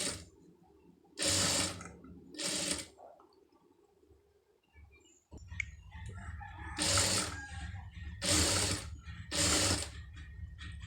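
A sewing machine stitches a round-neck blouse edged with a saree border, running in about five short bursts separated by pauses and quieter handling noise.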